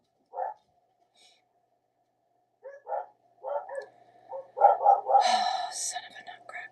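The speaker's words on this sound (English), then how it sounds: "Why are we barking?" A dog barks in several sharp bursts, starting with one isolated yelp and building into a rapid, louder cluster of barks toward the end, with a faint tone running underneath.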